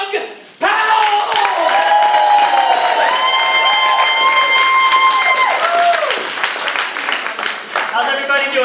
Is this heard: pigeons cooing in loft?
no